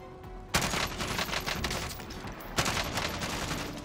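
Sentry gun in the Warzone video game firing sustained automatic bursts, loud and close, with a sharp burst onset near the start and another midway.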